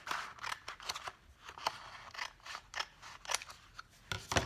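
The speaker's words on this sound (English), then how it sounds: "so I'm just going to trim off" Scissors trim off an edge of paper or fabric in a series of crisp, rapid snips, close and fairly quiet, with no talking.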